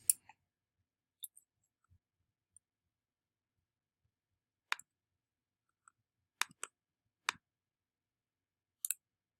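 Sparse, faint computer mouse clicks on an e-text table of contents, single and double clicks spaced irregularly over near-silence.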